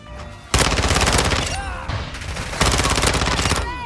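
ISO 9mm submachine gun in Modern Warfare 2 firing in two long, very rapid full-auto bursts, loud and close, with a short gap between them and faint talk at the start.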